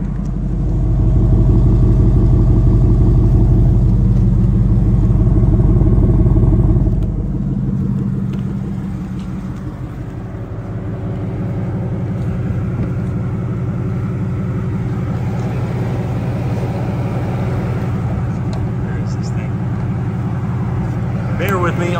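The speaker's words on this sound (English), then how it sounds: "First, let's hear the exhaust." A 2013 Ford Mustang Boss 302 exhaust idles and revs, loud and low in the first seven seconds before settling to a steadier, quieter rumble that continues to the end.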